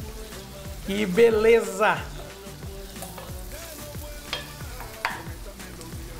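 A chopped medium onion fries in a pan with a steady sizzle and rhythmic stirring scrapes, while a person speaks briefly over the cooking.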